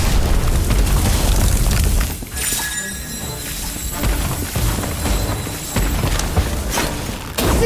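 A Fantastic Bomb spell explodes in the Harry Potter Magic Awakened mobile game, a loud shattering blast that rumbles and crackles on for several seconds, dense and close.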